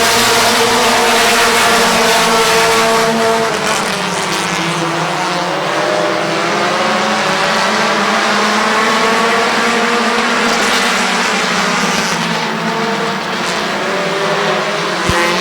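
Stock cars roar around Midvale Speedway right after a green flag restart late in the race, several engines blending into a loud, continuous, wavering drone that rises and falls as the pack passes, with no talk.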